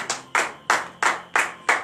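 Church congregation clapping during a Friday morning prayer service in Benin: six crisp, evenly spaced claps in a steady rhythm, fairly close and clear, with no talking.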